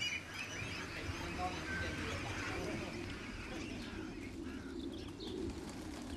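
Pigeons coo softly among other faint bird calls against a quiet, noisy background, with possible indistinct voices far off.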